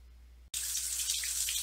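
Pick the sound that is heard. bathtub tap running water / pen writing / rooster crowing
bathtub tap running water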